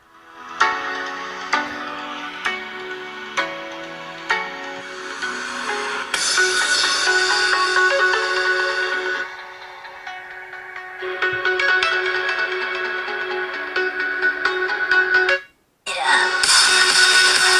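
An NCS electronic song plays through the stereo speakers of an OPPO Reno 10X Zoom phone, loud and close, with rhythmic beats, a brief drop-out near the end and no talking.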